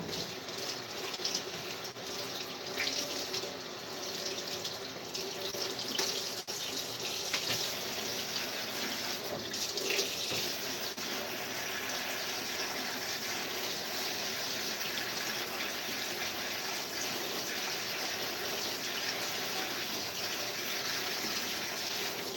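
Tap water runs steadily over cut onion and mushrooms being rinsed at a kitchen sink, a continuous hiss and splash with little variation.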